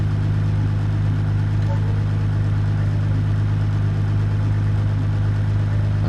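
ETK inline-six car engine idling in the BeamNG driving game, a steady low droning hum with a constant throb, loud and unchanging throughout with no talk.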